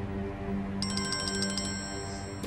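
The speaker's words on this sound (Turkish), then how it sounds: "Bu telefona bakmam lazım." A mobile phone ringtone plays a quick, bright repeating electronic melody that starts partway in and runs steadily for over a second, over a low hum in a quiet room.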